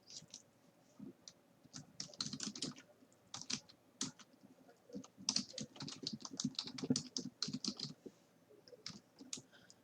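Python code typed on a computer keyboard, a steady run of quick, close key clicks in bursts with short pauses between them and no voices.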